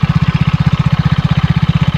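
A Yamaha Mio i 125 motorcycle with an RS8 power pipe exhaust idles close by, giving a loud, deep, evenly pulsing thump of about fifteen beats per second with no talking.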